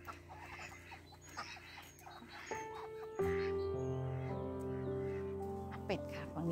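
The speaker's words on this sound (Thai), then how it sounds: "มีทั้งไก่" Chickens clucking in a snowy farmyard where goats, ducks and geese are also kept, several scattered calls in the background before a sustained tonal call rises up close.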